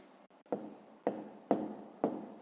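Chalk or marker strokes on a board while a math exercise is worked out, four short distinct scratches at an even pace, close and quiet, with no speech over them.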